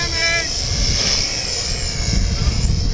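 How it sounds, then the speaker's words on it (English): A nitro-fuelled RC model airplane engine drones steadily with a high, buzzing whine for about three seconds, fairly loud, with voices talking over it. "It's a nitro plane, we can't restart it."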